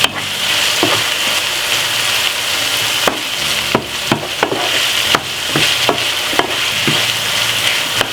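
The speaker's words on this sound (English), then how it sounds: "So I will be taking my little time and just fry it just like this." Saltfish and okra fry together in a pan with a steady sizzle, broken by sharp scraping stirs and utensil knocks at irregular moments, close and fairly loud with no voices.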